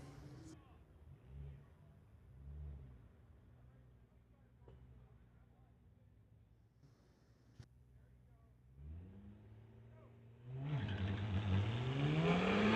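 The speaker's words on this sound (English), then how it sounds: "Chayton from Langley, 2007 BMW 335 in the TCS side, going against Jared Miller from Alberta" A 2007 BMW 335 drag racing at a street-legal strip, its engine revving through rising gear pulls with shift breaks, faint and distant at first, then swelling into a loud, close roar near the end.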